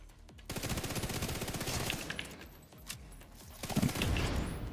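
Automatic weapons fire rattles in rapid bursts during a fight in the shooter game The Division, close and loud, with short pauses and a few sharper shots near the end.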